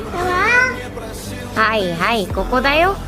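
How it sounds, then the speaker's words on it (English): A kitten meows three times in quick succession, close by, with rising and falling high-pitched cries. "he heard the familiar sound of a meow near his feet"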